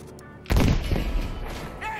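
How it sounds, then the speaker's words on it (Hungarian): Explosion from blowing up objects in the Battlefield V campaign, a sudden heavy blast after a quiet moment, booming and close, then rumbling debris and lingering noise that slowly settles. "azt hittem nagyobbat robban"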